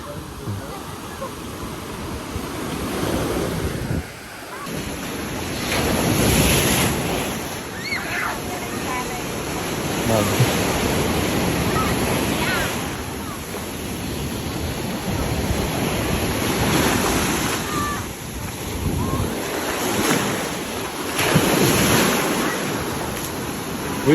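Ocean waves break and surge onto a beach in loud, roaring swells every few seconds, layered with steady wind buffeting the microphone, and voices come through faintly at times.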